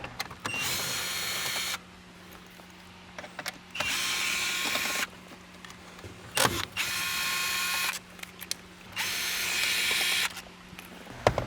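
A power ratchet whirs in four separate bursts of about a second each, removing 10mm bolts from the dashboard of a Lexus LC 500, with quiet handling noises in the pauses.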